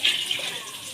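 Water pours steadily into a pot of rice before cooking, a brief, close, continuous gushing splash with no talk over it.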